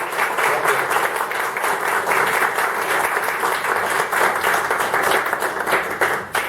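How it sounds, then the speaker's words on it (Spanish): An audience at a talk gives a speaker, a doctor, loud sustained applause, dense clapping filling the whole stretch at close range, with brief indistinct voices under it. "Pues un fuerte aplauso para el doctor."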